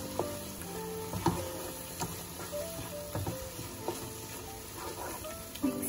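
Butter melting and sizzling in a pan while making methi chaman curry, a steady soft frying hiss with scattered small pops and clicks, fairly quiet and with no voices.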